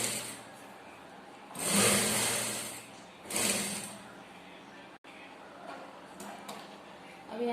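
A sewing machine stitches a plain blouse in two loud motor bursts of about a second each, with a faint background hum and light handling noises between and after the runs.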